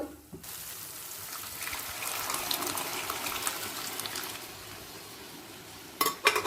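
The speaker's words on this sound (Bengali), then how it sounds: "ডালটা মশলার সাথে ভালো করে মিশিয়ে নেব" Boiled lentils being stirred into fried spices in a pot for Punjabi dal makhani, giving a steady wet scraping and sloshing for several seconds, ending in a few louder clanks of the spoon against the pot.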